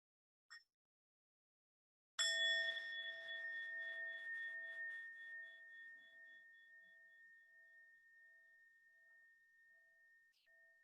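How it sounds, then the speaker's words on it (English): A single meditation bell is struck once after a brief silence, its bright ringing tone sustaining and slowly fading over several seconds in a quiet room. "And let's enjoy one sound of the bell."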